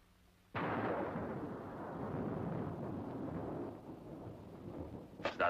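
A deep, rolling rumble of distant thunder or artillery fire in a wartime setting bursts in suddenly, then slowly fades over several seconds, heard alone without talk.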